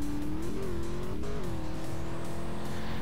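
A car driving in the MTA multiplayer video game: a continuous loud engine drone that rises and dips slightly as the car shifts and accelerates, with tire noise and no voices.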